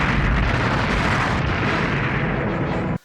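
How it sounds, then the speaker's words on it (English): A film explosion in space, a dense, loud roaring blast that rumbles continuously for about three seconds before cutting off abruptly into silence. "Hercules did die in a spontaneous space explosion."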